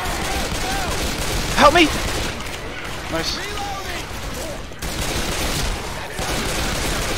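Pistol gunfire in the zombie shooter Left 4 Dead: rapid, loud shots crack over a busy game mix, with one sharp burst standing out, while a player shouts briefly.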